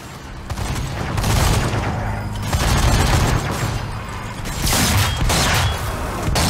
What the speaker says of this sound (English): I was going to finish him off with the heavy machine gun